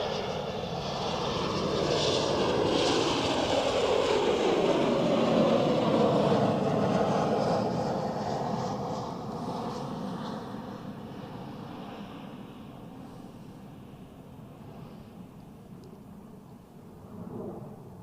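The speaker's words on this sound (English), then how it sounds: "we have another Helvetic Embraer on final, this time a 195 from" Helvetic Embraer 195 landing at Zurich Airport, a loud jet roar that swells as it passes close, with a falling engine whine, then fades to a distant rumble.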